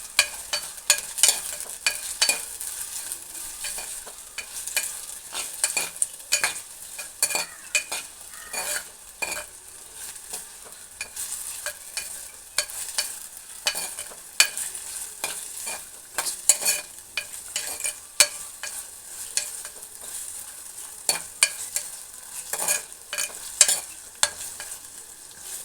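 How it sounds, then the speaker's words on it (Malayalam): Onion, garlic and green chilies sautéing in oil while being stirred, a soft, steady sizzle under frequent scraping and clinking strokes of the spoon against the pan at close range. "വെളുത്തുള്ളിയും പച്ചമുളകും ഇട്ടിട്ടുണ്ടെന്ന് നമുക്കിനി കുറച്ചൊന്ന് വഴറ്റിയെടുക്കാം"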